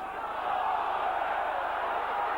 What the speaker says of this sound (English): the crowd thought that was a forward pass